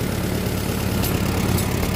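A tractor engine with a carburettor idles steadily up close, a loud, even low rumble with a fast regular chug throughout and no voices.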